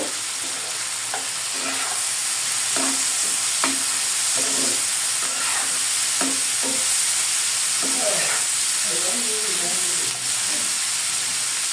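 Sliced onions and green chillies fry in a pan with a loud, steady hiss, broken by repeated scraping stirs of a spatula at close range, with no talking.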